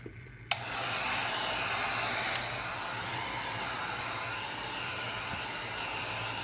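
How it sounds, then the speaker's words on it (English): A heat gun clicks on and then blows with a steady, close, whooshing roar as it runs over a custom cup with alcohol ink swirls, with one faint click partway through and no talking. "we're turning on the heat gun now"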